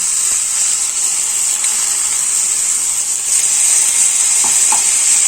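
Finely chopped leafy greens tossed into onions in a pan, giving a steady, close sizzling hiss throughout with a couple of faint scraping stirs near the end.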